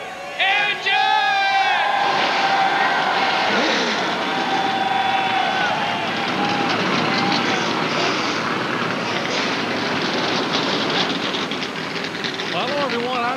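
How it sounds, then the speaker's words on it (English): Race car engines start up at Talladega Superspeedway for the 1999 NBS Touchstone Energy 300, a loud, continuous roar with whining tones that fills the whole stretch, with a voice faintly present. "Gentlemen, start your engine!"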